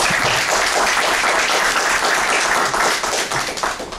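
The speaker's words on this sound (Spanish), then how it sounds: "Un aplauso" Dense, sustained applause from an audience at a book presentation in Mar de Ajó, steady and loud for about four seconds before beginning to taper near the end.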